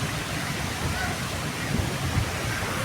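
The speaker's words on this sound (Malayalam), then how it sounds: "കടലിന്റെ തിരമാലയുടെ പൊന്തല് നോക്കിയേ." Sea waves crash at a beach during high swell, making a continuous roaring wash of surf that sits at a steady level throughout.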